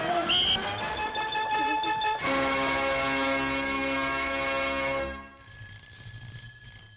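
An old telephone bell from a 1963 British comedy film rings with a sustained metallic jangle, loud and close, shifting tone partway through before stopping, with no speech over it.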